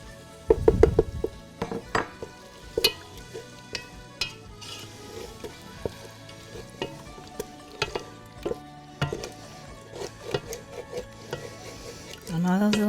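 Tomato sauce is stirred into a lamb stew (manestra) in a pot, with a faint simmer under scattered clinks and scrapes of a utensil against the pot, and a louder clatter near the start and end.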